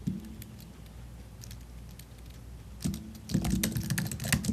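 Close, quiet clicking on a computer keyboard, first a light sparse patter, then faster denser bursts of keystrokes toward the end, with no voice.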